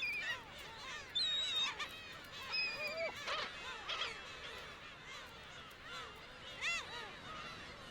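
Black-tailed gulls calling on a cliffside colony, with repeated harsh, wailing mews overlapping in irregular bursts, fairly close and loud throughout.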